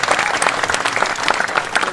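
Audience applause at a Balinese Calonarang performance, a dense, steady clapping wash from a crowd that stays loud and even for about two seconds.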